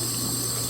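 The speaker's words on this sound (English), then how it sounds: "I was letting the water run so it could get a little hot." Water from a kitchen tap runs in a steady, unbroken hiss with a faint pump-like hum beneath it, close by and fairly loud, with no talking.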